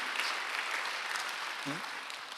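A church congregation at a Sunday worship service claps in a dense, steady wash, with a brief voice breaking through near the end.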